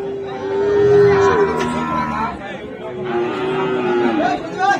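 Cattle moo repeatedly at a busy livestock market where a calf is being sold, with long, loud lowing calls close by over a faint murmur of crowd noise.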